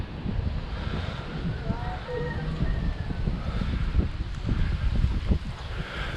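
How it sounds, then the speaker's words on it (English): Cool wind blows through the trees at Bell Church in La Trinidad, Baguio, a mountain Buddhist temple site. It makes a steady, full rushing sound with low gusty rumble against the microphone, continuous throughout. "I can really feel that cool wind of Baguio blowing now."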